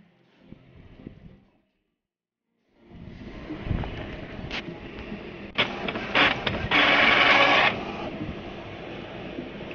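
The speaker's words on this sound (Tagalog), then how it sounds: "ito yung ipiprint na printer reset dot" An Epson L360 inkjet printer prints a reset page after a brief pause, with a whirring mechanism, scattered clicks and ratcheting, and a louder grinding feed burst close by.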